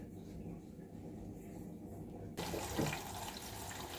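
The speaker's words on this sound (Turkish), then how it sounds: "Makine hazır su alırken yumuşatıcıyı da vereyim." A washing machine takes in water in a home laundry, a steady broadband rush of inflowing water that starts abruptly partway through and continues loud and close, after a quieter stretch of low household hum.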